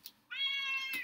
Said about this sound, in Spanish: mi gato siempre queriendo salir